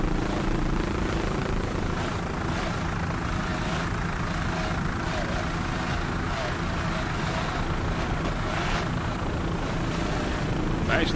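Racing powerboat at a Miami grand prix powered by two 2.5 EFI outboard engines, a loud continuous roaring drone with wind and water noise, steady throughout without pauses.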